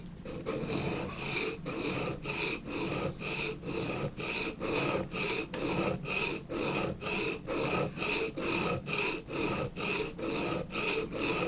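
A hand tool is sharpened on a sharpening stone with a steady run of about twenty rhythmic rasping strokes at a brisk, even pace, close but fairly quiet.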